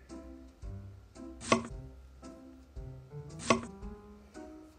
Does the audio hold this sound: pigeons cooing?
no